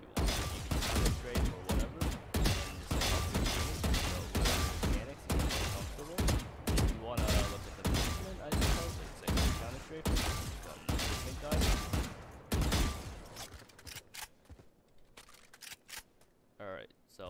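Weapon fire in VALORANT rings out in rapid, evenly spaced shots that keep going for about thirteen seconds before fading into a few scattered sounds. A voice talks over part of the shooting.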